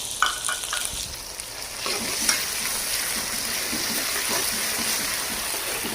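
Garlic-ginger paste fried with whole spices (black pepper, star anise, cinnamon and cumin) in a pan, giving a close, steady hiss and sizzle that follows a few brief stirring clatters at the start.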